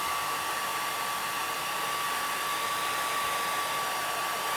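A hair dryer blows steadily on the plastic case of a Spectrum 48k computer, giving an even, continuous whine and rushing airflow at close range with no talk.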